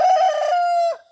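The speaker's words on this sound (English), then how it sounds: "And that rooster there, he sounds good." A single young rooster crows once, close and loud, a bright sustained call that cuts off abruptly.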